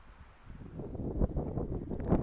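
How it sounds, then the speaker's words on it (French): Low, rumbling wind buffets the microphone in uneven gusts in an open field, a muffled roar swelling and easing with no voices. "si toutefois on entend le vent, je vous présente encore une fois mes excuses"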